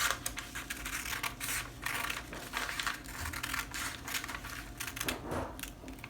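Scissors snip through fabric while a lantern sleeve is being cut, a steady close run of crisp, rapid cutting and rustling with brief pauses and no voices.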